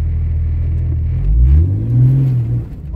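A 1996 Jeep Cherokee XJ engine revs in four-high while kicking up mud, a loud, close, low rumble that swells twice in quick succession with no talking.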